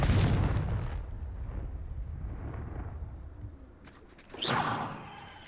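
A Confringo explosive spell going off in Hogwarts Legacy inside a cave, a loud booming blast that rumbles and fades, followed by a sharp whooshing burst near the end.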